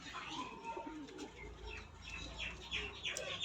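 A Giribaz pigeon at close range, its quick wing flaps making brief rustling bursts among soft cooing and low background noise.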